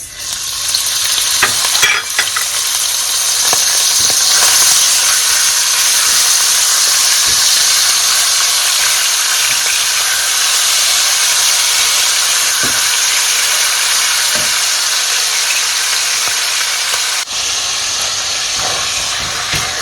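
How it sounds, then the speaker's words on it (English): Loud, continuous hissing sizzle of minced meat frying in oil, steady throughout, with occasional scraping clicks from stirring. "We'll go ahead and fry our minced meat."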